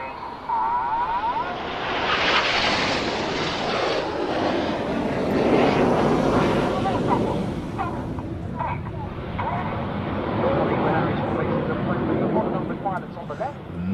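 Red Arrows jets fly in formation and swing out through a right-hand turn at an airshow, a loud, broad roar that swells and recedes over several seconds, heard alongside talking.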